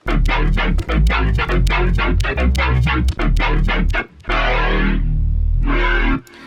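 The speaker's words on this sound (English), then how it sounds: "I love these like growly kind of like 3D sounds" A loud, growling detuned wavetable synth tone pulses in rapid repeated stabs, then holds a wide, buzzing sustained note before a final short burst.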